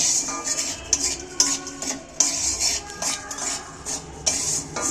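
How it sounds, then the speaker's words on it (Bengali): Salt being dry-roasted in a pan for Hyderabadi-style mango pickle, with a spoon scraping and stirring in quick repeated strokes, a dry gritty rustle with metallic clinks, close and moderately loud. "নুনটা আমি একটু ভেজে নিচ্ছি"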